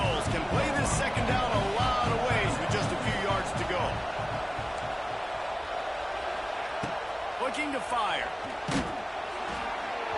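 Stadium crowd roaring in a college football video game, a dense, steady wall of cheering and noise throughout, heard under a commentator's voice.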